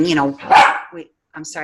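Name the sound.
puppy dog barking in the background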